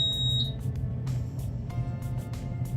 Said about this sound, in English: we're going to turn on by holding the button and it beeps at you.